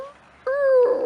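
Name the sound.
dog whimpering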